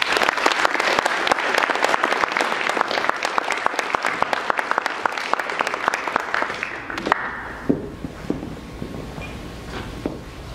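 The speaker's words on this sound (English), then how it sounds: "Please join me in one more round of applause for all of our student speakers today." Audience applause after a student speaker at a university showcase event, a dense round of clapping that thins out and fades near the end, followed by a few scattered claps and quiet room sound.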